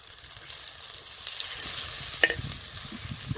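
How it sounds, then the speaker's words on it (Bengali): Banana slices frying in a pan in a village home kitchen make a steady, close sizzle with a few sharp crackles and light stirring scrapes, with no talking. "টাইম নিয়ে ভাজতে হয় কলাটা"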